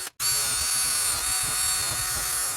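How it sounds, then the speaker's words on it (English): A power drill whirs steadily at high speed after a brief pause, running continuously up close, drilling holes while restoring a vintage Plumb axe. "I'm just going to drill a couple of holes"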